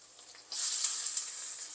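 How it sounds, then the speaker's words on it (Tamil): Curry leaves and onion sizzle in hot oil for a vegetable rava uppuma, with a steady close frying hiss that starts suddenly partway through and carries on to the end. "இதெல்லாம் பொரியட்டும் கொஞ்சம் கருவேப்பிலை ரொம்ப வெங்காயம் ஒரு வெங்காயம்"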